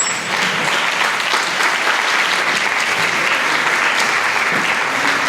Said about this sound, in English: we want to give a big round of applause for these ladies